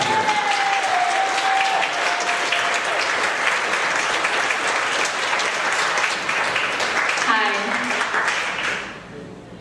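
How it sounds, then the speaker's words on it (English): Steady, loud audience applause and clapping greeting a performer at a stage show, a dense wash of many hands that holds for several seconds before fading out near the end, with faint voices underneath. "Put your hands together and clap as loud as you can."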